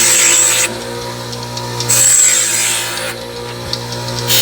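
Steel straps having their burrs knocked off during a welding repair job, heard as a steady rasping, grinding scrape that swells and eases in strokes, with no talking.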